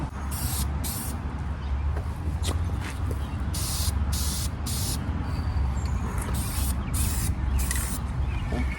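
Repeated short bursts of hissing spray paint on plastic car trim, about a dozen quick blasts in a steady rhythm, close and fairly loud.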